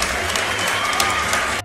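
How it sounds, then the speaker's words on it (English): Dense, steady applause from a fight-event crowd greeting a bodybuilder fighter, loud and close throughout before cutting off sharply near the end. "Big round of applause, ladies and gentlemen, for Michael McDaniel, God's warrior"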